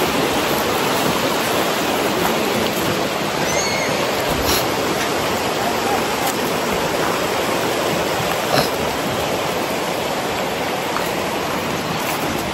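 Stream water rushes steadily and loudly at a camp site, a continuous broadband flow with no break across the whole stretch.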